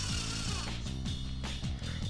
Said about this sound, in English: you're going to take those 3 screws and drill them into place.